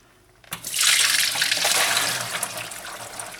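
Beans being rinsed under a running kitchen tap, with a steady, loud gush of water that starts abruptly and flows continuously without pause.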